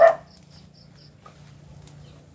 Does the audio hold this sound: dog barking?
yes